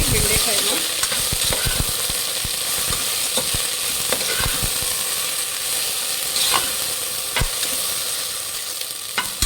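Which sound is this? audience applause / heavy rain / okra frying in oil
okra frying in oil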